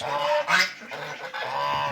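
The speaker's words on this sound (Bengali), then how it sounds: "এই দেখুন রাজহাঁস তিনটে রাজহাঁস" Three domestic geese give repeated nasal honks in short bursts, fairly close and loud, with a few overlapping calls and no talking.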